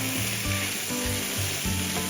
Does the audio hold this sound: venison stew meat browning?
yes